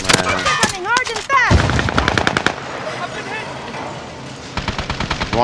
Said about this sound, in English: who's fucking shooting me right now, bro?